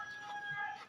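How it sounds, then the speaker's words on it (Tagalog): A chicken gives a short, close clucking call in a single brief burst, alone and without talk. "Manok."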